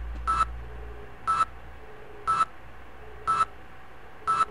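In the video game Half-Life 1, five short electronic beeps sound at an even pace about once a second, clear and alone.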